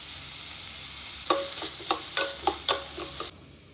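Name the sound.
onions frying and being stirred in a pan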